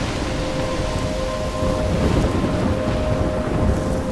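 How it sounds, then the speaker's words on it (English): Thunderstorm with heavy rain in Life is Strange, a loud steady wash of rainfall under a low rumbling roll of thunder that swells midway, enveloping and close with no voices. "I'm trapped in a storm?"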